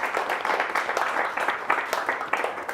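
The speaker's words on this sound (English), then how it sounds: "There we give a round of applause for Michael." An audience at a Watershed talk on media applauds the speaker, a brief, moderate burst of dense clapping in a room with a faint voice over it.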